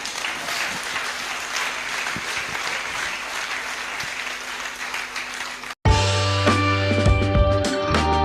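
A church congregation claps for Jesus, sustained dense applause from many hands filling the room for several seconds before cutting into loud music.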